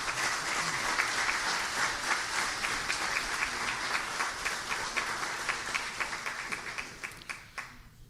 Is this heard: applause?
yes